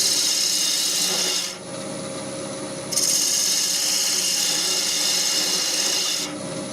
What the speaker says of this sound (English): Prefer to use a bowl gouge when I'm going in.